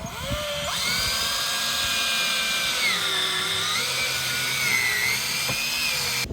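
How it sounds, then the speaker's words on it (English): A power drill drives number 3 square-drive stainless steel self-tapping screws into a pergola ledger, a steady high whine that rises in pitch and holds, shifts briefly, then runs on close and loud with no talk. "You're going to want to drill these."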